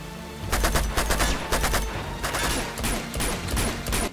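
Sniper and automatic gunfire in the video game Uncharted 2, a dense, loud barrage of rapid shots continuing steadily throughout with no voices.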